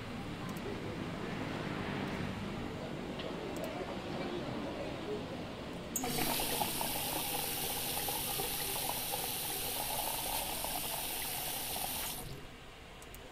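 Tap water pours steadily into a jug, a soft running stream that turns into a brighter, louder gush partway through before tapering off near the end.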